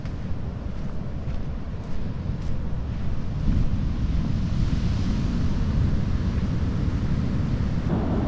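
Rough ocean surf at a coastal beach, a continuous low roar of breaking waves mixed with gusty wind buffeting the microphone, no talking.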